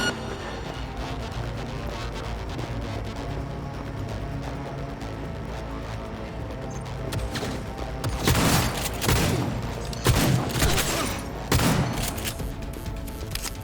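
Turret fire in the video game Cyberpunk 2077, a low steady rumble of combat that breaks into several loud rapid bursts near the end.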